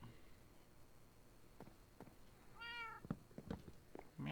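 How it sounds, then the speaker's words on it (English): A cat in the Minecraft game gives one clear, drawn-out meow against a quiet background, with a few soft clicks and thumps around it. "Meow, I heard the kitty."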